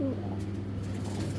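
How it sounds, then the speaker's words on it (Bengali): A pair of Fitki pigeons coos softly in low, throaty tones over a constant background hum. "দর্শক এই যে এখন দেখাইতেছে একজোড়া ফিটকি কবুতর"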